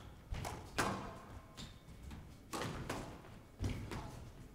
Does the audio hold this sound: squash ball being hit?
yes